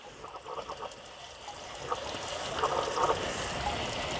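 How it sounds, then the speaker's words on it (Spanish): A stream of tap water pours steadily into a plant pot of Cattleya orchids, a continuous splashing trickle that grows slightly louder and fuller as it runs. "en la matera el chorro de agua."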